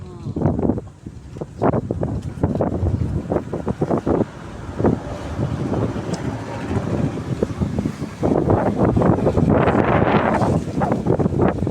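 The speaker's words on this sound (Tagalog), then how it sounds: "Lakas ng hangin na yun." Strong gusty wind buffets the microphone in loud rumbling bursts, rising sharply near the end, with voices talking underneath, during a midday fire near a building.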